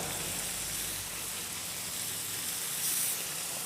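Chicken pieces sizzling in a very hot pan over high heat, a steady broadband frying hiss that holds constant throughout with no pauses, close and fairly loud.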